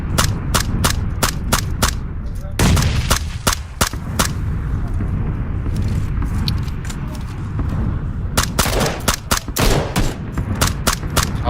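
Rapid gunfire in an online shooter game, loud bursts of rifle and machine-gun shots in quick volleys over a constant rumble of in-game noise.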